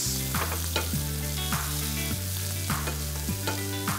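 Crab leg pieces and calamari cook in a pan with a close, steady sizzle, broken by periodic clinks and scrapes of stirring. A sustained musical tone plays underneath, and no one speaks.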